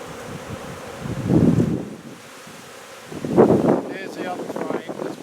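Honey bees buzz around hive frames during a beehive inspection, a soft humming drone that swells twice, close and low, with wind noise against the microphone.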